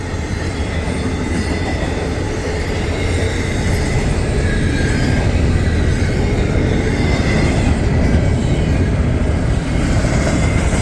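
A westbound CSX intermodal freight train with two locomotives up front passes in Bloomdale, Ohio, a loud, steady roar of rolling wagons with wheel clatter and faint squeal, continuous and close throughout.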